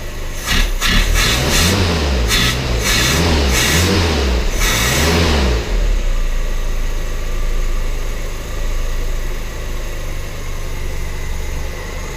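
Close, loud 2.3 engine in a 1976 Bobcat wagon, freshly set up at the carburetor. It revs in a few rhythmic bursts, then settles into a smooth, steady idle.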